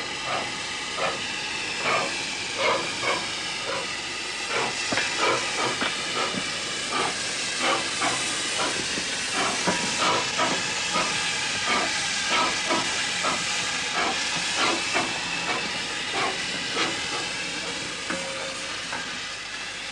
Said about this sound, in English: you can hear it quite distinctly in that steady chuff of the replica.